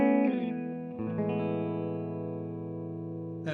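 A dry, effect-free electric guitar through a UAFX Lion amp pedal on its clean, bass-amp-like setting: a few sustained chords ring out clearly and evenly, with a fresh strum near the end and no voices.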